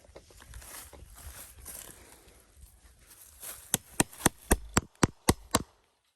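A hammer drives a staple into a fence post while repairing a barbed-wire fence line: after some shuffling and rustling, about nine sharp, evenly spaced metallic strikes ring out close by, then silence.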